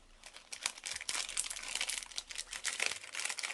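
Crisp plastic crinkling and crunching close by, steady rustling bursts as crinkly plastic is squeezed and stuffed into a homemade dog toy, with no talking.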